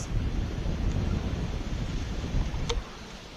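Strong wind from Tropical Storm Debby at Cedar Key, Florida, a loud continuous rumbling roar buffeting the microphone, easing slightly near the end.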